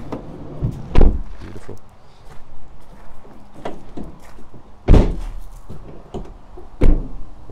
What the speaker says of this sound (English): Let me just go around and shut up some doors now.